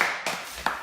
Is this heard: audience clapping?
yes